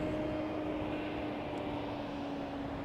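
Boeing 777 on arrival at Charlotte airport, flying in from Miami, a steady distant engine roar with a low droning hum holding even throughout, no voices.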